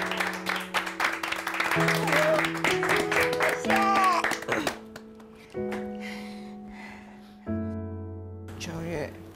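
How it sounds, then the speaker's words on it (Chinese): An audience applauds two singers at a televised show, a burst of clapping mixed with a host's voice and music tones, moderately loud and close, with talk running over it. "来宾掌声鼓励鼓励"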